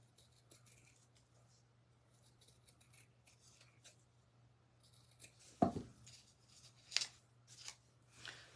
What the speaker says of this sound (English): So I'm going to cut my ears out of felt. Cut two of them.